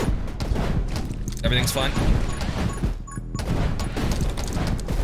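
Gunfire in 20 Minutes Till Dawn, rapid, dense bursts of small shots crackling continuously beneath someone talking, with game effects and chimes mixed in.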